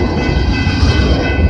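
Canadian Pacific freight train CP-134 rolls past close by, a loud, steady rumble of wagons and wheels filling the short moment without a break.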